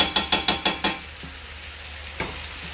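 Kofta and potatoes frying in a pan, with a rapid run of six rhythmic stirring scrapes and knocks, then a quieter steady sizzle and one last scrape near the end, close up.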